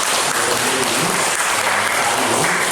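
A church congregation applauds in a steady, dense burst of many hands clapping together, close and fairly loud, with no talking.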